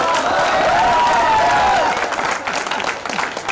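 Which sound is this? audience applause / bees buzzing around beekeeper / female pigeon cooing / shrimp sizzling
audience applause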